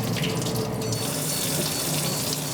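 Warm water running steadily from a tap at a veterinary clinic, filling a container for a dog's stomach lavage; a loud, continuous rushing splash with no break and no voices.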